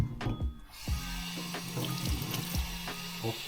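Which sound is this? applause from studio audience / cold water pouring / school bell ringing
cold water pouring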